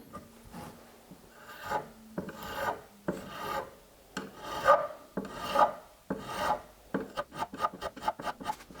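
A file rasps across guitar frets to crown them, in repeated close strokes with brief pauses between, finishing with a quicker run of short scraping passes.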